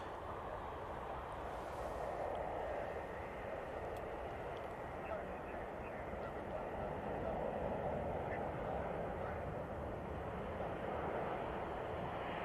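A Vueling airliner at Manchester Airport gives off a steady, broad roar that holds evenly for the whole stretch without fading or building.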